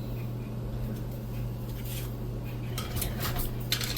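A small knife scrapes and clinks against the metal basket of an air fryer while prying out cinnamon rolls, with steady close metallic scraping that grows busier and brighter toward the end.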